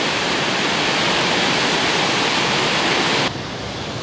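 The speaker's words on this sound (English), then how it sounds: "That high volume of a waterfall." A high-volume waterfall on a Tennessee hiking trail roars as a dense, loud, steady rush of water, close and unbroken, dropping slightly at the end.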